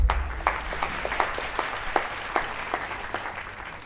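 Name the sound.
audience applause at a fashion show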